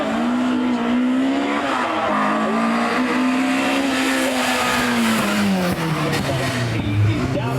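A rally car on the Prescott speed hill climb roars loud and close as the engine pitch rises, drops and swings back during a downshift into first gear, with faint tire noise under it.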